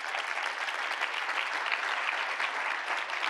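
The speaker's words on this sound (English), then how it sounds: "Another round of applause" Steady, dense applause from an audience after a student's final project presentation, a uniform wash of many hands clapping with no voices over it.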